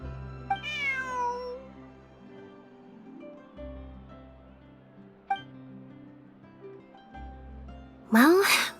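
A game cat in Genshin Impact meows with a rising, pitched call, heard clearly over background music and soft in-game sound effects, with a brief clink near the end.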